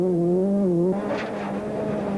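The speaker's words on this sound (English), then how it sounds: "It's rather noisy in a rally car at full flight." Inside a rally car at full speed on a forest stage, a loud engine note holds high, then drops sharply at a gear change and climbs again amid rough, noisy cabin rumble.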